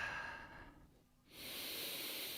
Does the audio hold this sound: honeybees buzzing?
no